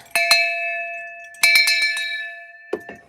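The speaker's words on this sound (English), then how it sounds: "we gotta do the bell for that" A hand bell rung in celebration during a live rock and geode sale, two bright ringing bursts of several quick strokes each, followed by a faint clink near the end, with no talk over it.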